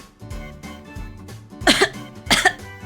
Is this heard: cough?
yes